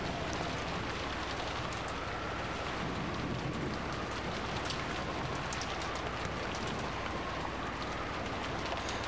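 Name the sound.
rain pounding down in the video game Umineko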